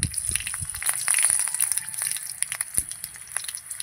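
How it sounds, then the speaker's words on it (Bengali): Mustard seeds and two green chillies tempering in hot oil give off a close, steady sizzle with sharp crackles and pops scattered throughout, and no talking. "দেব দুটো কাঁচা লঙ্কা ফোড়ন"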